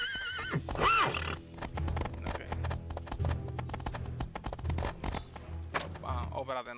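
A horse in the video game Riders of Icarus gives a loud, rising neigh near the start, followed by a long run of quick, rhythmic hoof clops over game music.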